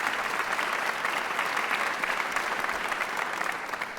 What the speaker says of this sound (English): So a big round of applause to thank all of you